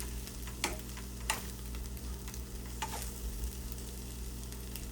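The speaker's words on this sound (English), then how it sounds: "So it's cooking up, it's like really high. So just mix that in." Fried rice sizzles steadily over high heat with a constant crackling hiss, punctuated by a few sharp clicks and scrapes as it is stirred and mixed in the pan.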